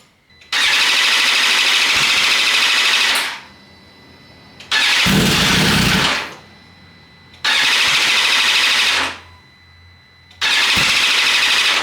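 A crash-damaged BMW S1000RR motorcycle with a new throttle is cranked over repeatedly, four long starter bursts separated by short pauses, loud and close.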